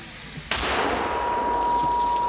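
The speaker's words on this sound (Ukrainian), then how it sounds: "Ось так з двох пострілів мінометники бригади Нацгвардії Рубіж вдало відпрацювали по позиціях росіян" A single sharp, heavy blast of a mortar round fired at enemy positions, followed by a long rolling echo that fades slowly.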